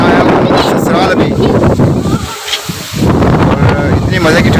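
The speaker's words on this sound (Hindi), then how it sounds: "और इतनी मज़े की ठंडी हवा चल रही है माशाल्लाह" Cold monsoon wind gusts steadily with rain, roaring broadband across the microphone with a brief lull midway, while someone talks over it and children's voices come through.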